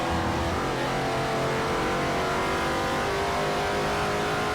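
Loud, continuous roar of racing car engines at high revs in Forza Motorsport 4, GT2 and GT1 cars, steady and close, with no voices.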